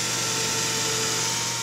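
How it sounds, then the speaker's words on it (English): A power drill with a 5/16 inch bit boring through a vinyl knife sheath, a steady high whine held at even loudness for the whole short stretch. "I'm using a 5/16 inch drill bit."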